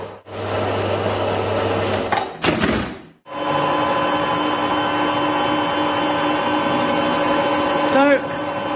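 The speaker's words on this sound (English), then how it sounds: "let's pop over to the Harrison lathe and get one spun up" A Harrison lathe in a motorcycle fabrication workshop spinning up: a steady motor whine and hum with a brief clattering interruption, then continuous running at an even pitch.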